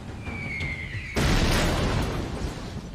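A tank shell strikes a tank during a battle for Germany, erupting as a sudden loud, close blast that stays as a rumbling, sustained roar for several seconds.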